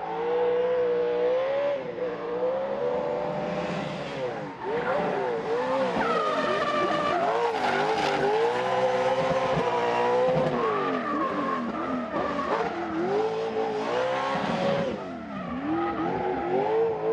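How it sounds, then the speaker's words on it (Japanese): A Lexus LFA supercar converted into a drift machine slides continuously, its tires squealing in long wavering howls over a loud, rising and falling engine note, close and sustained throughout. "ウォームアップが終わったところでドリフトを始める"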